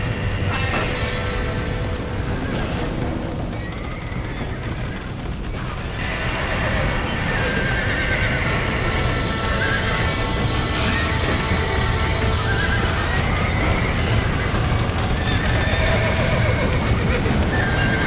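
Horses whinny and neigh repeatedly amid hoof clatter in a burning barn scene in the video game Red Dead Redemption, with loud continuous chaotic noise and people shouting over it.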